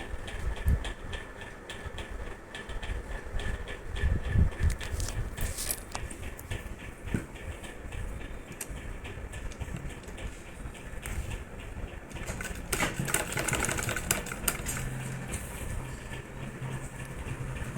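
A sewing machine stitching a belt onto a saree: a continuous mechanical whirr with rapid, dense ticking that rises and eases in intensity over a long, unbroken run.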